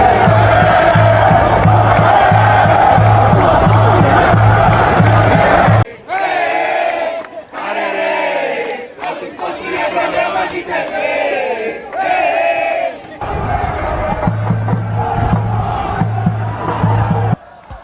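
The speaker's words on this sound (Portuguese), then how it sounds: "a torcida alvinegra responde." Botafogo-PB football supporters chant in a stadium during a match against Auto Esporte, a loud massed rhythmic chorus with drumming in the stands, breaking off into scattered shouts and cheers before the chant swells again.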